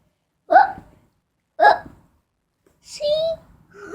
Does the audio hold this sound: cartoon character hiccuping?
yes